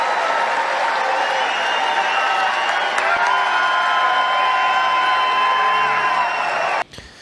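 A large live crowd applauds and cheers after a speech at a political event, a loud, dense, steady roar that holds throughout before cutting off abruptly near the end.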